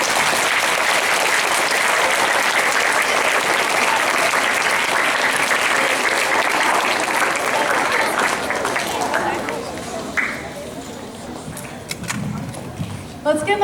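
An audience at a school speech contest claps loudly for fourth-grade participants. The dense applause is sustained, then thins out toward the end as murmuring voices come through.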